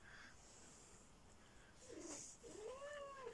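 A female cat in heat gives a couple of drawn-out meows, faint and somewhat distant, over a quiet background hiss.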